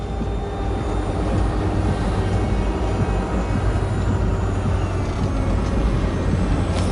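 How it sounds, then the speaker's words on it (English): A drone hums steadily overhead in Cyberpunk 2077, a loud continuous droning tone that holds level for the whole stretch, with no voices over it. "Did you fire up that drone?"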